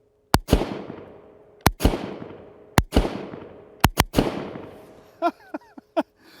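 A Franklin Armory Binary AR-Elite rifle fires on trigger press and release at SHOT Show 2025: about six loud, sharp shots, some in quick pairs, each with a booming reverberant tail, followed by a few small clinks.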